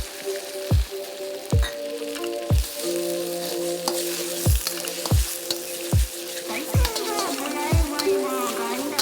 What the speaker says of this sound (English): bring in our egg here. Lay down a little bit of oil, and then we're going to go ahead and get that egg in there